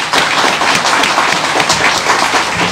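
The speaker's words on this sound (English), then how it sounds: "Let's give her another round of applause." Loud, dense applause fills the hall at a Memorial Day service, a continuous crowd clapping close by with no break.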